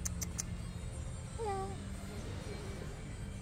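A single short cat meow, rising then falling, sounds over a steady low outdoor hum at Pantai Puteri beach, Tanjung Kling, Melaka, with a few faint clicks early on.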